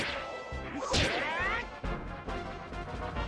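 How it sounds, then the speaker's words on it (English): Punch effects from the Smash Remix fighting game land as sharp whacks and swishing impacts, several hits in quick succession with a bright swoosh near the start, loud and alone without talk. "The punch sound effects sound a bit different."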